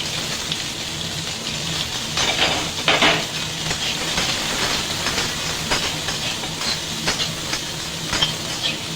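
Chopped beans and carrots fry in a pan with ginger and garlic for a chicken momo filling, giving a steady close hiss and sizzle with a few brief crackling surges as the vegetables are stirred.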